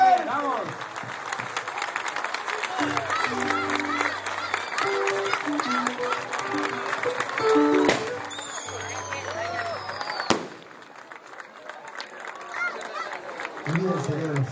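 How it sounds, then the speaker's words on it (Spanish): A crowd applauds at an outdoor religious serenade celebrating a golden wedding anniversary, with dense clapping mixed with voices and musical tones, an abrupt loud knock midway, then thinner clapping afterward. "¡El aplauso de la gente! ¡El aplauso fuerte!"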